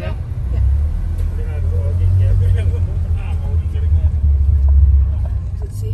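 Cars drive aboard the KM Kirana VII ferry, a loud steady low engine rumble and vehicle drone close by in the boarding area, with voices talking over it.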